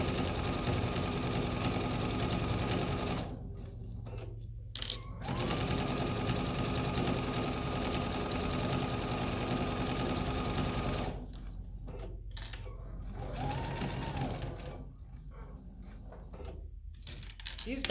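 A sewing machine stitches a small fabric pouch in long steady runs with short pauses for pivoting, loud and close, while someone talks during the breaks.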